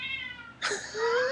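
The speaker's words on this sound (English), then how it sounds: "That's the cat indicating he's ready." A house cat gives a single clear, rising meow up close, sounding briefly over a faint background of quiet tones.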